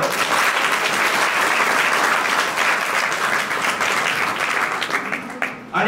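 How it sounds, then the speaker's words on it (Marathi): An audience at a village school event claps for participants of an essay competition on Chhatrapati Shivaji Maharaj, with steady, dense applause that fades slightly near the end. "त्या सगळ्यांचं मनापासून अभिनंदन करण्यासाठी टाळ्या वाजवा."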